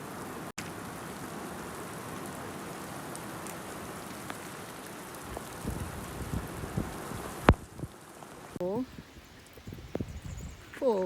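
Hail and rain fall steadily on a rural property with a paddock, a dense hiss with scattered sharp impacts and one loud knock. A voice talks over the later part.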